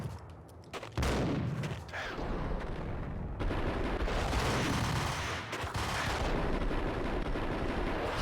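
Gunshots in the shooter Max Payne ring out as a quick series of cracks, then a heavy burst and sustained roaring barrage with echoing, reverberant tails.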